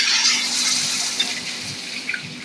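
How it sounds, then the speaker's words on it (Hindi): About four glasses of water, close to a jugful, poured into a pot of lentil dumpling curry. It makes a loud, steady gushing splash that eases off slightly toward the end, with no talk. "मैंने 4 ग्लास तकरीबन 1 जग जो है वो पानी इसमें डाला है"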